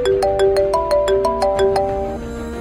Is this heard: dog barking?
no